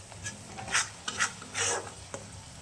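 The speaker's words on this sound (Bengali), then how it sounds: "জল দিয়ে এটাকে কষতে থাকবো" Paneer butter masala is stirred in a pan with added water, giving soft scraping and wet rubbing strokes in several short bursts with faint sizzling underneath and no talk.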